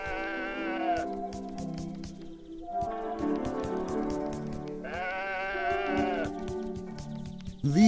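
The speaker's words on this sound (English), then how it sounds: "These sheep seemed happy." Sheep in the video game Woven bleat repeatedly in drawn-out, wavering calls, several overlapping voices close by over a soft ambient backdrop.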